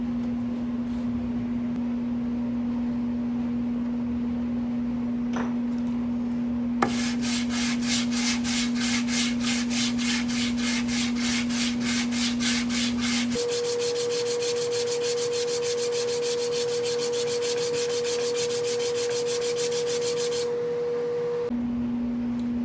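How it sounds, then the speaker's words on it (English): A wooden snare drum shell is hand sanded with 120-grit sticky-back sandpaper along the grain, producing fast, rhythmic rubbing strokes that run steadily for about fifteen seconds over a constant low electrical hum. "I'm going to start the hand sanding process using this sticky back 120"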